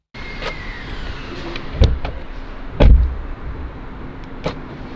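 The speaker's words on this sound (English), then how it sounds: "Now let me just quickly show you this unlocking the car." Porsche Panamera unlocking by key fob, a few sharp close clunks of the locks over a low idle hum, with a faint whirring mechanism in the background.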